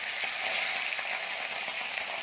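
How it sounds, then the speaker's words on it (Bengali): Tangra fish fry in hot mustard oil, giving a dense, steady crackling sizzle that carries on without a break, close and moderately loud, with no talking. "এবার আমরা মাছগুলোকে লাল লাল করে একটু ভেজে নেব।"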